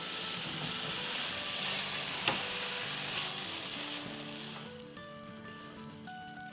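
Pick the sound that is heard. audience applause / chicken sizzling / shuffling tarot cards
chicken sizzling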